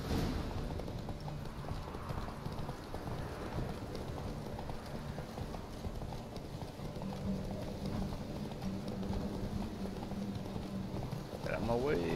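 Roach the horse galloping in The Witcher 3, steady hoofbeats running continuously under a dense bed of game ambience and music, with no pause in the rhythm.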